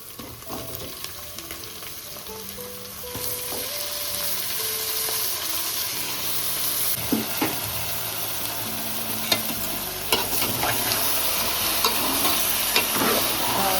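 Raw chicken frying in a pan for a Telugu chicken curry, with a steady close sizzle and bursts of spatula scraping and stirring, and no voices.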